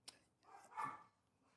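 A dog barks a few times at a distance, short sharp yelps followed by a louder bark in the middle of the stretch, heard alone without voices.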